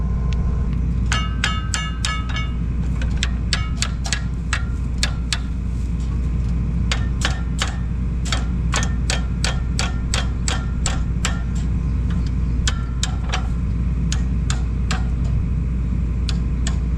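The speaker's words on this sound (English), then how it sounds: "it's easier now to do it with a hammer" Repeated hammer strikes on a stiff gauge wheel adjustment handle of a seed drill used for planting soybeans, sharp metallic knocks in quick bursts and then spaced blows, close and loud over a steady low engine hum.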